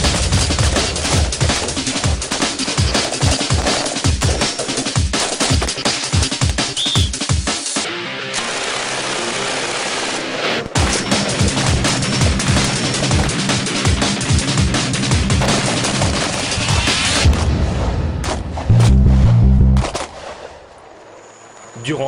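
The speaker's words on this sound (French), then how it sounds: "on prépare un petit tir de réglage d'armement" FAMAS assault rifle firing zeroing shots on a range, loud rapid cracks in dense bursts with short pauses, then a lull and a final burst, with some speech mixed in.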